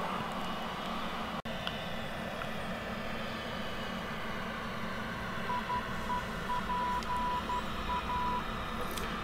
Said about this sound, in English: the identifier beeping in the background, we have picked up the ILS, the localizer